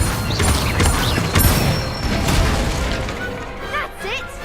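Incendio fire spell cast in the Hogwarts Legacy video game during a training duel against a dummy: a dense, loud burst of crackling, whooshing magical effects with booming hits and sharp pops, layered with other spell sounds throughout.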